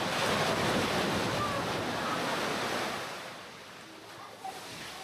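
Surf washing and splashing onto the beach at Maya Bay in the Phi Phi Islands, Thailand, a loud, steady broadband wash with wind noise that eases off toward the end.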